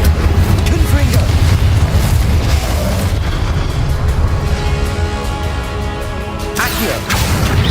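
Confringo and Incendio spell blasts from the Hogwarts Legacy video game, a dense run of booming explosions and bursts with crackling debris, loud and continuous, with occasional voices over the effects.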